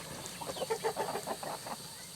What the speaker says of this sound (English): Maybe you're scaring the chickens for no reason.